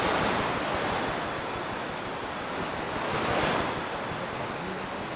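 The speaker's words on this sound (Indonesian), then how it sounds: "Tiba-tiba angin kencang buat di atas tuh." Strong wind gusts roar steadily outdoors, a broad close rushing noise that swells and eases in waves with no talking.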